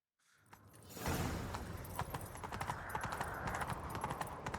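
A horse galloping in The Witcher 3, a steady run of quick hoofbeats that starts after a brief pause and carries on loud and close, with no talking.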